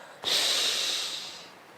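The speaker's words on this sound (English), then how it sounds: "Take a deep breath in now." A single deep inhalation, drawn in audibly through the nose for about a second with a breathy hiss that slowly fades, close and alone with no talking.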